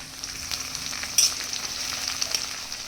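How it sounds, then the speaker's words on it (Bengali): Peas fry in a pan with a close, steady sizzle and crackle, broken by a quick stirring scrape near the middle; no one speaks. "এরই মধ্যে দিয়ে দেবো কিছুটা মটরশুঁটি। একটু ভাজা হয়ে যাক"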